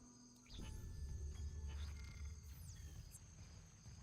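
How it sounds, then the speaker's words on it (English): Video-game jungle ambience with crickets swells in after a brief quiet start: a dense, steady insect chirring bed with sweeping tonal calls and low rumbling beneath, moderately quiet and without talk. "why would I need it on when I can have jungle ambience?"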